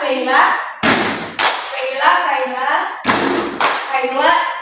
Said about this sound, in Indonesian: Tepuk perkenalan